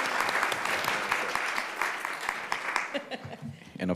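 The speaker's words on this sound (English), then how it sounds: "Another round of applause for Tyson." An audience at a school board meeting applauds with dense, steady clapping and a few chuckles, tapering off as voices and talk take over near the end.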